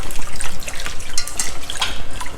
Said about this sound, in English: before using, wash it in plenty of water.